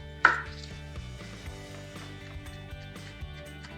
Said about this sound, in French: je coupe ma cébette, autant le vert que le blanc